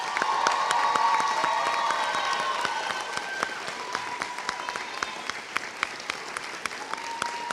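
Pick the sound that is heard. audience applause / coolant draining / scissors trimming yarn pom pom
audience applause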